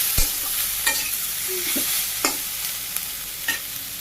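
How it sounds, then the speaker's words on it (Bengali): Fish frying in a pan, stirred now and then: a steady loud sizzle with several sharp scraping clicks of the utensil against the pan, no voices. "মাছ দিয়ে দিলাম নেড়ে করে নামিয়ে নিই"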